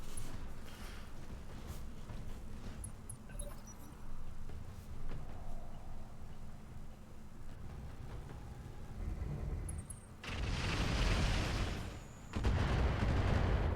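Heavy weapon fire pounds at a mech in the BattleTech Roguetech video game: rumbling booms and continuous low-end barrage, growing louder with bursts of dense blasts near the end.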